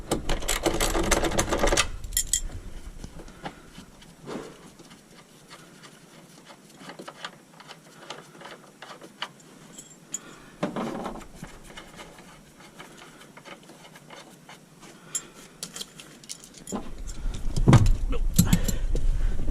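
A wrench works loose the seat bolts in a Dodge Challenger 1320 drag car, with rapid ratcheting bursts at the start and end and quieter clicks and faint handling noises in between.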